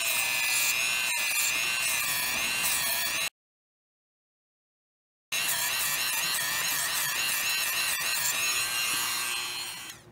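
A Dremel rotary tool running around 1,000 to 1,500 RPM is passed over a wrinkle-painted motorcycle engine fin, making a loud, steady high whine with grinding contact. It cuts out for about two seconds, then returns and fades at the end.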